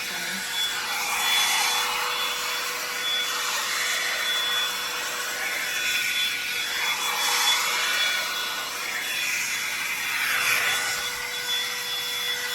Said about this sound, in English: I'll go over it with the blow dryer once more